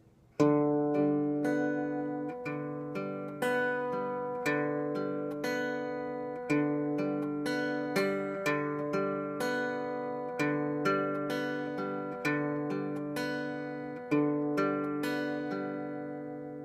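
A plucked guitar repeats a steady pattern of notes, each pluck ringing into the next in an even rhythm, played alone and close.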